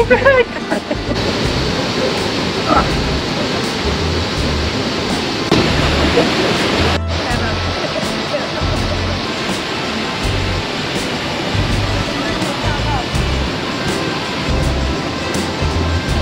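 Sprite Falls at Dalitiwan Resort gives a steady, loud rush of falling water that fills the whole stretch, with people talking over it.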